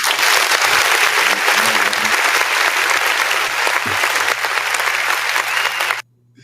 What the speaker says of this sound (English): This boy has a audience clap. Standing ovation.